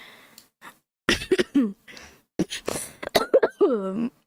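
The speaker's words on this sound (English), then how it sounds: "Yeah, I am coughing a lot." A man coughs repeatedly, close and fairly loud, in several short bursts separated by brief pauses, a couple of them with a rough throat-clearing quality.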